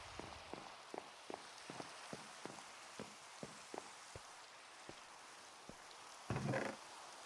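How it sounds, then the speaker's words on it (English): Rain falling in the video game Minecraft, a steady soft hiss with sharp droplet ticks at a fairly regular pace and a louder splash near the end, no voices. "And now it's going to rain."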